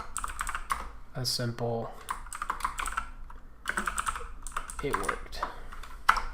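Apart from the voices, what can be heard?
computer keyboard typing code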